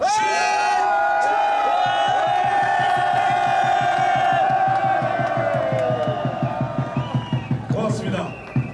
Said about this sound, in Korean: 3초간 함성 한번 질러보도록 하겠습니다